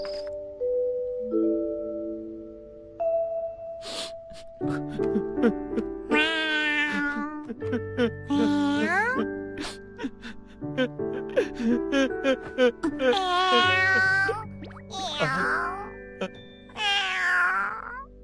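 Several cat meows rise and fall with bright harmonics over a steady musical background. The meows come in short bursts, close and fairly loud.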